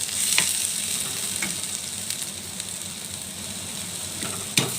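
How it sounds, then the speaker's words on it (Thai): Ingredients for a Thai Isan chicken and winter melon curry are fried in a pan, giving a loud, continuous sizzle with occasional clinks as they are stirred and a sharper tap near the end. "ขัวพองให้มันหอมนี่แหละพี่น้อง"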